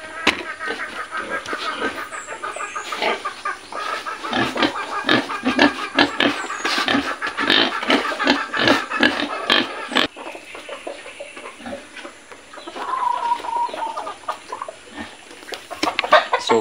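Pigs grunt and chickens cluck in a farm pen where a pregnant sow has been moved to a new enclosure; busy, overlapping animal calls near and far, with a brief human voice in the mix.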